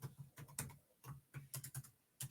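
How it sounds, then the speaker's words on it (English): Irregular clusters of soft, close key taps come from typing on a computer keyboard, with short pauses between bursts and no voices. "I'm just listening for you to finish typing"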